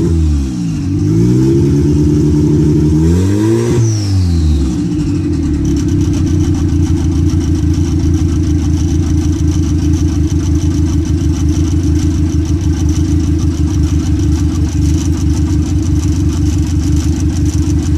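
A car with a standalone ECU running on a basemap, its engine revving briefly at the start with rising and falling pitch, then settling into a steady, loud, close idle for the rest of the time.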